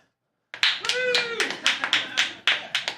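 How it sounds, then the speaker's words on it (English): Scattered clapping starts abruptly, uneven claps in short bursts, with a voice or whistle-like tone rising briefly over it. "now a round of applause"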